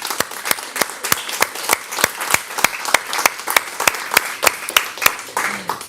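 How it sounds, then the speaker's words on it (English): A room of people at a science talk claps together in appreciation, producing loud, sharp, evenly spaced claps in a steady rhythmic beat of roughly three per second for about six seconds. "This is the sound of a room clapping to share with you our appreciation."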